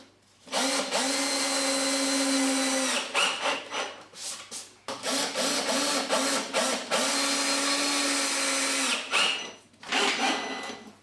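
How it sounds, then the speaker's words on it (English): A power drill drives screws into a wooden diagonal brace on a garden gate, whirring loudly in long sustained runs with brief pauses between screws. "I can now place some screws in that brace."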